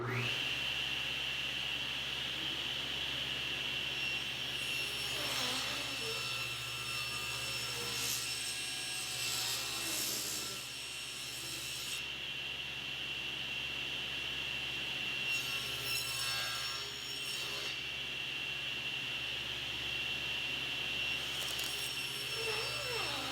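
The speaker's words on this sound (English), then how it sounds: "Pushing thin pieces of molding through the table saw is one of the more dangerous things to do." A table saw whines steadily while thin wood molding is fed through, the blade's tone rising into brief louder cutting bursts several times against a constant motor drone.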